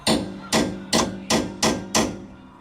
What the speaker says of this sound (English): So you want to get right in the middle, obviously, and give it a smack.